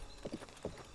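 Horse hooves clopping in the video game Breath of the Wild, a few soft, evenly spaced clip-clop steps at low volume with no talk over them.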